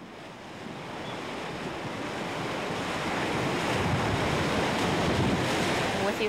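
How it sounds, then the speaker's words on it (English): Swollen river rushing during the 1997 Reno flood, a dense, continuous roar of churning water that slowly grows louder, with some wind noise and no talking. "the river was getting really seriously out of control"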